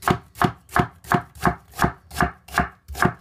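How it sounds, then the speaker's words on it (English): A knife slices through an onion on a cutting board into julienne strips, about nine crisp chops at a steady, even rhythm, close and clear, with no talking. "And then I'll usually flip the onion down and cut at it again."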